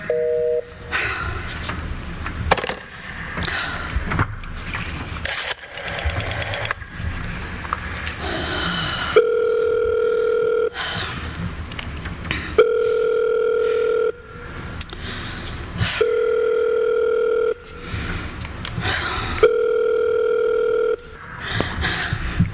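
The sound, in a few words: telephone dialing and busy line signal in radio drama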